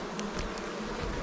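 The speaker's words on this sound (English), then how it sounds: "this time of year you expect to see the hive just booming with bees" Honey bees hum around a hive during the lead-up to the honey flow, a quiet, continuous close buzz with faint individual bees flicking past, no voices.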